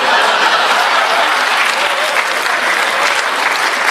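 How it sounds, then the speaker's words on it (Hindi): A crowd at a mushaira poetry gathering breaks into loud, continuous applause, a dense wash of clapping that holds steady from start to finish. "ये तालियों की गूंज वहाँ तक आनी चाहिए"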